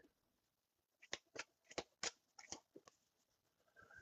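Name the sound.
shuffling a deck of cards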